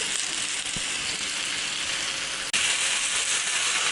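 Mushrooms and vegetables frying in a pan for a vegetable ragout, a steady soft sizzle with a faint crackle, interrupted by a brief clunk near the middle before the hiss resumes.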